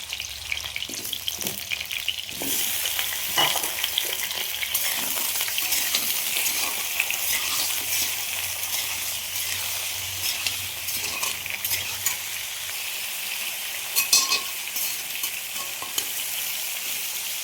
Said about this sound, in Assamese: এতিয়া ইয়াতে মই অকণমান আলু ভাজি লৈছোঁ